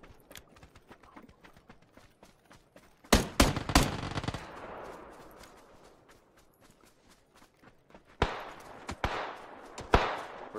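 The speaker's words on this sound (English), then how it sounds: "We're getting shot from where we just came from." Video game gunfire in a multiplayer match, with a close burst of rapid shots in the middle and another cluster near the end, over a steady patter of lighter clicks and footsteps.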